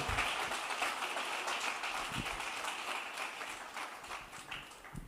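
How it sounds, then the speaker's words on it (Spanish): A church congregation claps during a Spanish-language service, a faint, even wash of applause that slowly tapers, with a few louder individual claps near the end. "Dele un aplauso al Señor"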